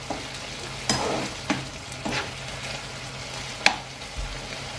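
Creamy pesto chicken and mushroom sauce sizzles in a pan under steady stirring, with a few sharp knocks of the utensil against the pan and a soft continuous frying hiss beneath.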